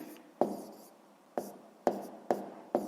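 A pen or pencil writes a numerical answer by hand on paper, heard as soft scratchy strokes with five distinct taps of the tip, close and quiet.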